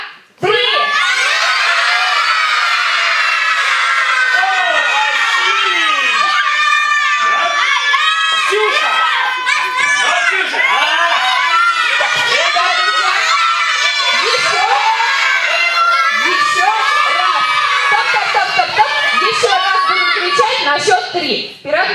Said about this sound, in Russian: На счет три кричим свое громко-громко имя.